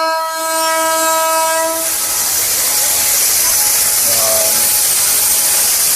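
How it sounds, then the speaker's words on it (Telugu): A WAP-7 electric locomotive sounds a long, loud horn blast with stacked tones, then its train rolls into the platform with a broad rushing rumble and brief faint squeals. "సో మన ట్రైన్ అయితే ఇప్పుడు ప్లాట్ఫామ్లోకి అయితే ఎంటర్ అవుతుంది."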